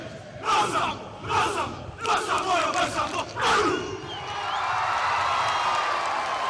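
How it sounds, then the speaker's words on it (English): A rugby stadium crowd at a Samoa versus Fiji Pacific Nations Cup match shouts a loud rhythmic battle cry in several punchy bursts, then settles into a sustained roar of cheering. "Great response from the crowd"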